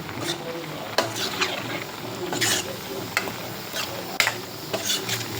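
Drumstick palya being stirred and mixed in a pan in a home kitchen, with a steady soft sizzle and repeated scraping clinks of a spoon against the pan, close and fairly loud.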